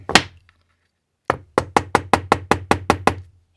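A single knock, a pause, then about nine steady hammer taps on a metal earring hoop in an even rhythm, close and sharp.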